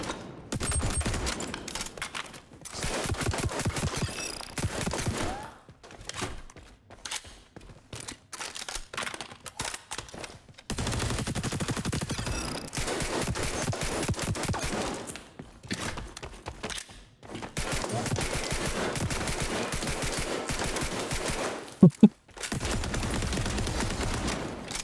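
Video game gunfire in rapid bursts and hip-fire volleys, loud close cracks clustered in rattling strings separated by brief silent gaps, repeating over the whole stretch.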